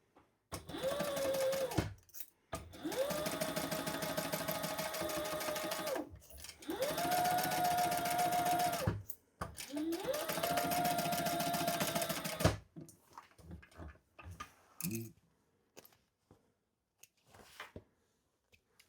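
Sewing machine stitching the seam allowance on a zip-around travel wallet's body liners, running in four steady bursts of several seconds each with brief pauses between, followed by quieter handling clicks and rustles.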